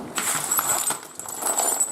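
A tray of loose brass cartridge cases, set on aluminium foil, is slid into an oven, producing a close, bright metallic clinking and rattling for about two seconds, with no speech.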